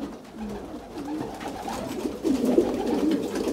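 Pigeons coo softly in a loft with low, throaty, rolling calls that overlap and grow a little louder toward the end, heard close with no talking.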